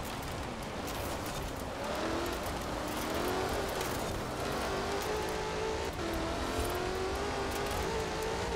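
Race car engine droning and revving continuously while driving in Forza Horizon 4, with rising and falling pitch as gears change, steady and close throughout.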